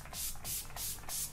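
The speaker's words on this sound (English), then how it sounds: "The last thing I'm doing is taking the Urban Decay All Nighter Makeup Setting Spray." Urban Decay All Nighter makeup setting spray in the Long Lasting version is misted in about four quick, soft hissing pumps in steady rhythm, close but quiet.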